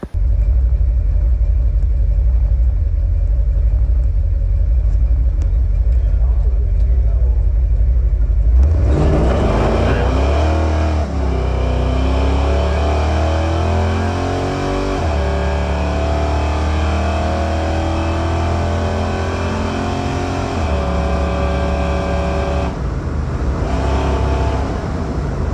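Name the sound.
big-block Chevelle El Camino accelerating down a drag strip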